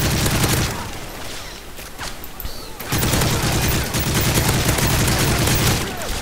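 Heavy gunfire in the video game Call of Duty MW3, dense continuous bursts that ease briefly in the middle before a loud, sustained barrage resumes.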